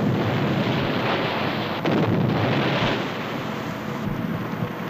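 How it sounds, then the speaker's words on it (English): Depth charges explode at sea, heard as a roaring, rumbling wash of low booms and turbulence with a couple of surges, loud and continuous without clear separate blasts. "Three cans, three booms."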